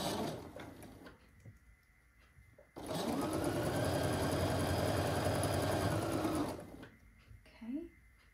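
A Juki sewing machine runs in one loud, steady burst of rapid stitching for about four seconds, close by, with quieter handling noises and brief speech before and after it.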